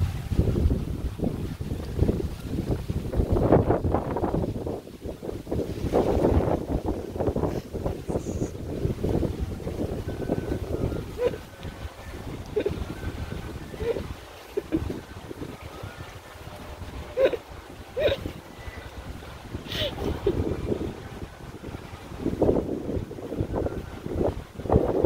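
Strong wind during Typhoon Agaton roars and buffets the microphone in steady gusts, with a boat-like rumble beneath, loud and continuous outdoors.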